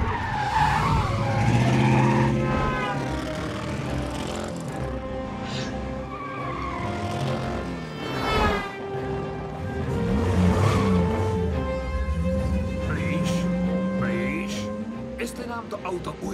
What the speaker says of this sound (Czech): U McKinnonovy letecké základny byla zaznamenána automobilová honička.